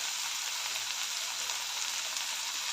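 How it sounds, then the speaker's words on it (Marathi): Onion and tomato sautéing with crushed garlic and curry leaves in a pan for a hyacinth bean curry, giving off a steady, close, bright sizzle and hiss without pause. "सर्व चांगलं परतून घेते"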